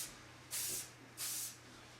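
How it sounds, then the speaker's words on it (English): A can of hairspray is sprayed onto finished, curled hair in two short hissing bursts, each under half a second, close and fairly loud over a low background hum, with no talking. "add a little spray"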